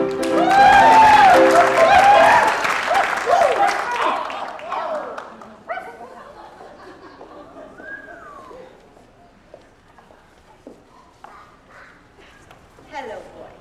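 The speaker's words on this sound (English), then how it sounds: "Let's bring her around with a round of applause." Applause from an audience greeting a singer, loud mixed clapping and crowd noise at the start that quickly fades, followed by quieter stretches with scattered sounds and some talk.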